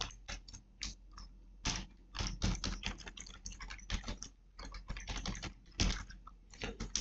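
A command typed on a computer keyboard, rapid close clicking keystrokes in uneven bursts with brief pauses, continuing for several seconds without any talking.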